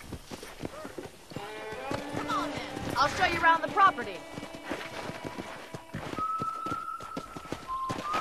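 Horse hooves clip-clop at a steady walking pace in Red Dead Redemption, close and clear while a character speaks over them, with ambient game sounds and a sustained tone joining later.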